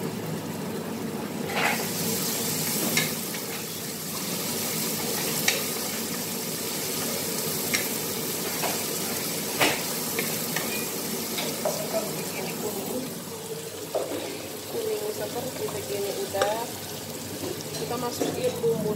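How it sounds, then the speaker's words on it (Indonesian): Minced garlic frying and being stirred in a pan for beef spaghetti, a continuous sizzle with scraping stirs and occasional knocks, while a person talks over it. "kita aduk lagi."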